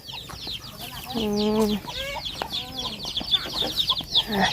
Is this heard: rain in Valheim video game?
no